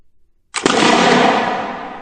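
A single sharp, loud gunshot cracks out after a half second of quiet, followed by a long rolling echo that slowly fades over the next second and a half.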